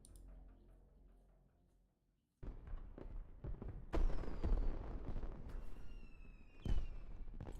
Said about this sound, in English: Fireworks, man.